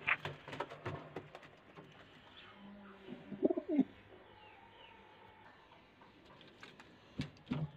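Caged pigeons give soft, low coos, faint and intermittent, alongside scattered light knocks and rustles in a quiet setting.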